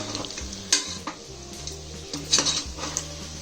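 Chicken sizzling in a pan as a spoon stirs in coriander powder, with repeated metallic scrapes and clanks against the pan over a steady frying hiss.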